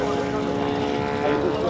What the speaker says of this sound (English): nice approach there from John with the Magister